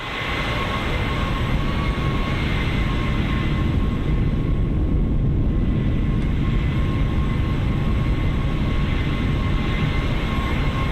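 Steady, dense engine roar of a Boeing 767 freighter from a flight simulator sound pack, a continuous broadband rumble with faint high tonal whines, even and unbroken throughout with no talking.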